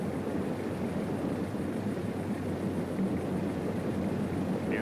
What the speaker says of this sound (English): a 36-foot cigarette powered by two 500 horsepower Mercury inboards